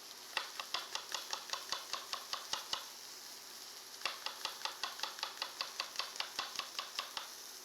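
A knife slices cremini mushrooms on a board in a regular rhythm of crisp, close chops, with a short pause in the middle before the chopping resumes.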